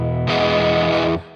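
Electric guitar played through a Fractal amp preset with its drive block adding distortion: one loud, sustained distorted chord rings for about a second and then cuts off, with no talk over it.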